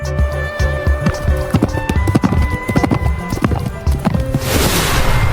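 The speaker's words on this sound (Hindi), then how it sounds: "हॉर्स को हिंदी में घोड़ा कहते हैं।" A horse's hooves clip-clop in a quick, close, loud rhythm of sharp knocks, ending in a brief snorting whinny.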